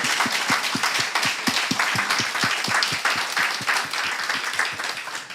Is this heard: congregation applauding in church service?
yes